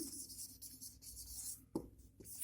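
A marker or chalk scratches across a classroom board while a sentence is written out, making continuous hissy strokes broken by short pauses and one sharp tap near the end, close and moderately loud, with no talking.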